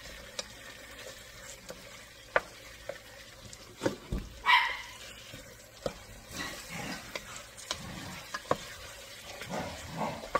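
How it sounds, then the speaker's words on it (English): Spoon stirring tomato sauce into chicken pasta in a pan, soft scraping and clinks at irregular intervals over a faint sizzle, with a dog barking once midway. "I'm just mixing all that tomato sauce in"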